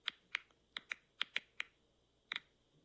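Recorded plant sounds: sharp, dry clicks like popping popcorn, about ten of them scattered irregularly, some in quick pairs, fairly close and clear over a quiet background.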